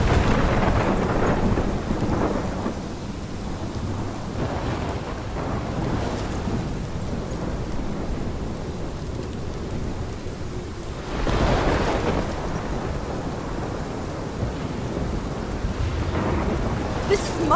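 A heavy thunderstorm rages in Life Is Strange Episode 5: a steady roar of rain underlies rolling thunder, with loud booming cracks swelling at several points, and no voices over the din.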